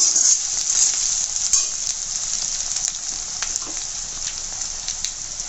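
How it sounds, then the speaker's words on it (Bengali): Dried fish (shutki) frying in a pan, a bright steady sizzle with a few sharp crackles and pops, close up and alone without speech. "এই যে শুটকিগুলো ভাজা ভাজা হয়ে গেছে একটু"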